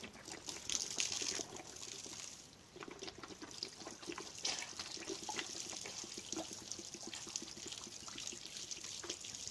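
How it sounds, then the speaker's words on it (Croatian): Hot water is poured in a continuous trickling, splashing stream, fairly quiet and close, with no talk over it. "Danas snimamo polivanje vodom i to vrelom, vrućom."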